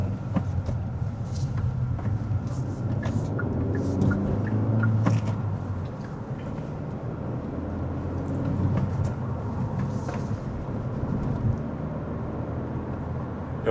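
A Hyundai Avante CN7 N Line with a manual gearbox accelerates at nearly full throttle while driving in the rain, giving a steady, loud interior engine drone with road and rain noise throughout.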